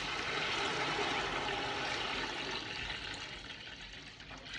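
Water is poured into a pot of rice for ghee rice, a continuous rushing, splashing pour that stays loud and even before easing slightly near the end, with no talking.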